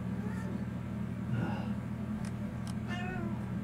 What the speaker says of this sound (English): My cat Blackie says it's time to go to bed.